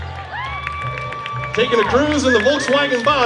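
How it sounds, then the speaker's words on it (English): An audience at a Halloween costume contest in Temecula claps and cheers for a costumed group. Scattered applause begins under a steady tone and swells midway, continuing beneath someone talking over a microphone. "a big round of applause for our hippie family"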